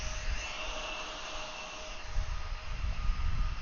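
A Boeing 757 jet begins its takeoff roll on runway 9 left at Atlanta airport, heard as a steady distant engine roar and rumble that swells slightly as the roll gets underway.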